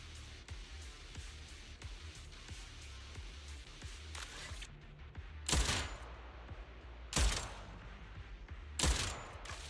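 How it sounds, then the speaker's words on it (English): Rapid gunfire in a video game: a dense, steady rattle of shots runs continuously for several seconds under a low background hum, then gives way to three separate loud, sharp bursts spaced a couple of seconds apart. "Hold right trigger for rapid fire."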